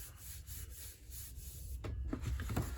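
Cardstock being rubbed and pressed down firmly by hand makes soft, close scuffing strokes, quiet and repeated, with a slightly louder rubbing burst near the end.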